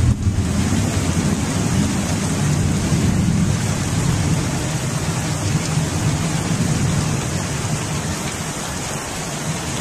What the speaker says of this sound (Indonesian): Nah, hujan.